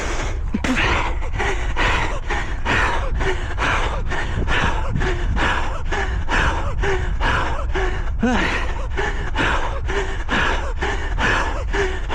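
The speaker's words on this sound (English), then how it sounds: "I'm breathing like a winded animal here" A cross country runner, just finished a race, pants hard and fast in rapid ragged gasps, a steady close-up rhythm of heavy breaths with no talking.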